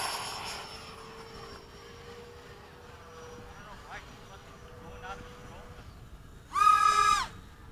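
F-15 fighter jet in high-speed flight at Bayside, a steady engine drone under radio talk, with a louder roaring burst near the end.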